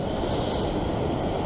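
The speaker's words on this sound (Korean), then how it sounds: "지금 이 파도가 세기 때문에" Strong ocean waves break at the shore along a Sydney coastline during fishing, giving a continuous broad roaring wash that is loud and steady throughout, with no talk.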